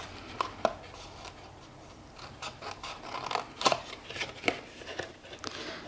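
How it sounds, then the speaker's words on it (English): Scissors snip out small dart-shaped notches along the score lines of a cardstock Easter treat box, giving several sharp, close cuts in quick irregular bursts, quiet between snips. "So we're going to cut these 3 score lines here."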